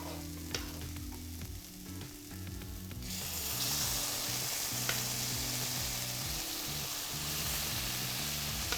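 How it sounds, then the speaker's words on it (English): Spices toast and fry in a pan with loud, steady sizzling that swells about three seconds in, along with occasional scrapes and clinks from stirring. Music plays underneath throughout. "give it a nice stir and those spices get a nice toast"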